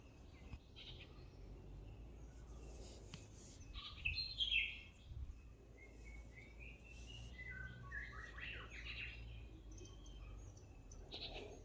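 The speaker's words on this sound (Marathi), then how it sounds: "पक्ष्यांचा किलबिलाट," Small birds chirp and tweet faintly at sunset near a seaside temple in Malvan, Maharashtra, scattered calls over a low steady background hum, with no talking.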